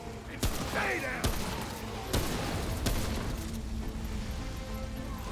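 Rapid gunfire from a firearm in Remnant: From the Ashes, several sharp cracking shots spaced through the moment with mechanical clatter and game noise, loud and close.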